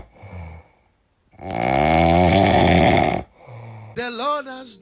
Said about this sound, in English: Me no know if I dey sleep by this snore.